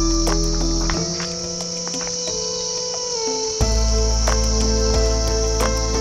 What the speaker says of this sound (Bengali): পরিষ্কার ঝিঝি ডাকার শব্দ শোনা যাচ্ছে।